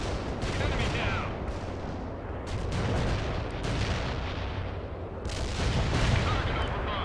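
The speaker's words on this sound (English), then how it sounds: "Heavy artillery barrage inbound." Heavy artillery barrage in the video game World in Conflict, a dense continuous roar of overlapping blasts and rumbling impacts, loud and sustained with surges throughout.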